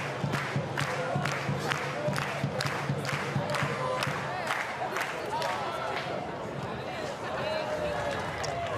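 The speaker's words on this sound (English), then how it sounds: "Sydney FC fans very excited. You can hear it in the crowd." Sydney FC supporters at Leichhardt Oval roar and chant through an A-League football match, a continuous crowd din with rhythmic claps and shouts under a commentator's voice.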